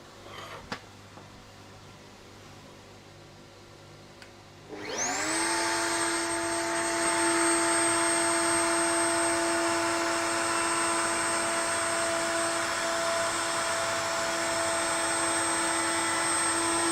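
A power tool cutting wood for the back legs of a Lutyens-style bench spins up after a few seconds of quiet room sound, then holds a loud, steady, high whine with a clear tonal hum, close and continuous with no talking.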